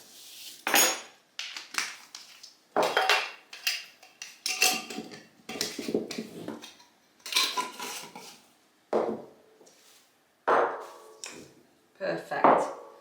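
Dishes, pots, pans and cutlery clatter and clink in a home kitchen as used things are washed and put away, in repeated bursts of knocks and rattles close by, with a voice talking intermittently among them.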